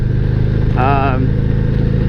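A 2018 Harley-Davidson Street Glide fitted with an aftermarket exhaust rumbles steadily and close throughout, with a brief voice-like tone rising over the engine partway through.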